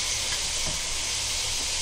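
Chicken pieces frying with ginger, garlic and onion in a pan for white biryani, giving a steady, moderately quiet sizzling hiss with no pauses.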